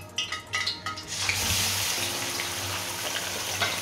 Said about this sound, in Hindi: हमारा चिकन भी फ्राई हो रहा है